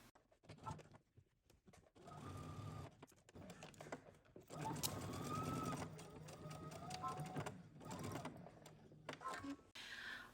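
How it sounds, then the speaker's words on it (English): Sewing machine stitching a dart in fabric, fast rhythmic mechanical whirring in bursts of a few seconds separated by brief pauses, quiet and close. "start in the center and stitch all the way in one direction till I stitch completely off my dart"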